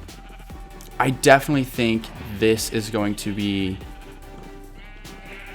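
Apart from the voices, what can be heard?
sheep bleating in Minecraft video game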